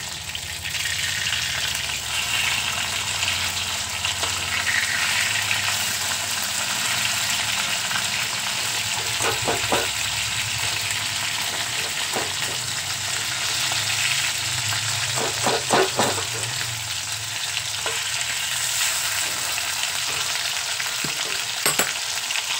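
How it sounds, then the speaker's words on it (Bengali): Pieces of fish frying in mustard oil and being turned over: a continuous loud sizzle with several sharp clicks and scrapes of a utensil against the pan. "মাছগুলো এক পাশটা ভাজা হয়ে গেছে, এখন অন্য পাশটা উল্টে দেব।"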